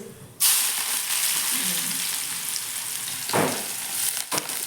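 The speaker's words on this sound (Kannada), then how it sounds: "ಎಣ್ಣೆ ಹಾಕಿನಿ ಜೀರಿಗೆ ಸಾಸಿವೆ ಹಾಕ್ತೀನಿ" Cumin and mustard seeds tempering in hot oil for a buttermilk sambar, hissing and sizzling loudly and close after a sudden start, with a couple of sharper crackling bursts near the end.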